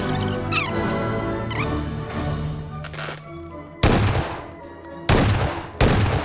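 Several sharp gunshots ring out in a PUBG firefight near a church, spaced irregularly and growing louder toward the end over a steady tonal game background.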